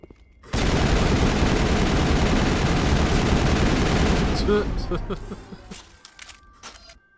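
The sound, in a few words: shotgun firing in Mass Effect video game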